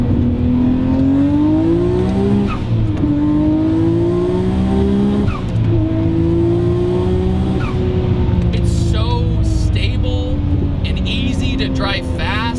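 A Nissan R34 GT-R with 650 horsepower and upgraded twin turbos drives hard, its engine droning loud and steady with rising gear pulls and shifts, tire noise underneath, and people talking over it.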